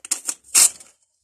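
A plastic collectible blind bag is torn open with a few quick crinkly rips close to the microphone, two short tugs followed by one louder tearing burst, lasting about a second.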